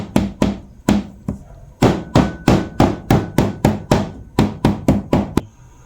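Lemongrass is pounded in a kitchen with about twenty sharp, heavy thuds. The blows come close and loud in a quick, fairly steady rhythm, with a couple of short pauses between runs of strikes.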